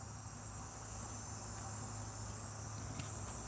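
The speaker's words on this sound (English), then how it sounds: "them cicadas, they're singing away." Cicadas sing in a backyard on a hot afternoon, a faint, steady high-pitched buzzing drone over quiet outdoor ambience.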